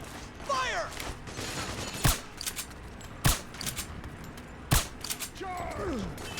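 Scattered gunfire in the Metal Gear Solid 4 video game on PS3: three distinct loud shots a second or so apart over a busy battle bed with shouted voices and chirping effects.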